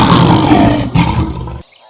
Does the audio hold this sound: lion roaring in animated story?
yes